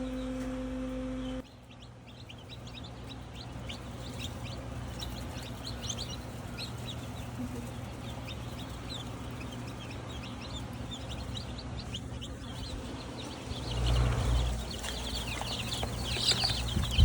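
Hens, including Bresse, olive egger and black copper Marans chickens, clucking faintly on a farm during fall hatching, scattered soft calls over a steady low hum of machinery.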